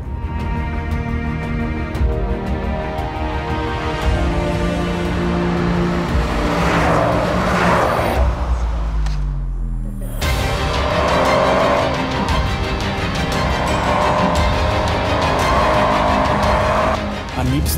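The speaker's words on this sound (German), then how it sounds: "Fahre ich mit dem Auto wirklich hier sehr schnell auf unserem Handlingkurs in Dürnhofen." An Opel Corsa OPC is driven hard around a handling track, with a loud engine that rises and falls and tires squealing through corners, broken by a brief drop in volume midway.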